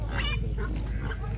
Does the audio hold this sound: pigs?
yes